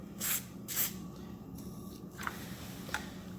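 Two short hissing sprays of WD-40 aimed at an electric RC car, close and fairly quiet, followed by faint ticks and light handling noises.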